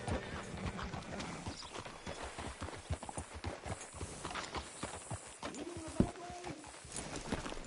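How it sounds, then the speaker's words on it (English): Steady clip-clop of horse hooves walking on a hard surface in the video game Red Dead Redemption 2, with a brief whinny partway through. "Hitch your horse up here."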